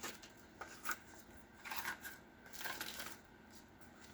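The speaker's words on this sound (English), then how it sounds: "I angle in, and then I trim along that fold line" Scissors snip and trim junk mail paper along a fold line while a pocket is made for a junk journal, giving several quiet, close cuts with short pauses between them.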